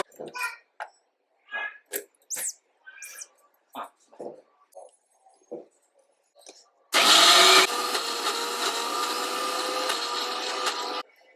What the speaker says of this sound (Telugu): ఇది మిక్సీ గ్రైండర్